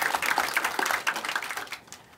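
Brief scattered clapping from staff gathered in a meeting room at a regular executive meeting, a light patter of hands that thins and fades out within a couple of seconds.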